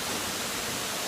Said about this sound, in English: It's called Lover's Leap, and it's essentially the waterfall